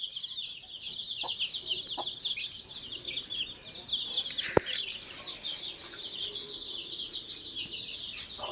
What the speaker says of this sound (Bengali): 12 পিস দেশি মুরগির বাচ্চা এখানে।